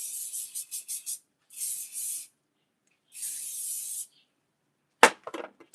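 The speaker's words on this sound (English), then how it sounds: "you apply your whole spray" Hair spray bursts from a can while styling hair into curls: several short hissing puffs, then two longer sustained sprays, ending with a few sharp clattering handling knocks close by.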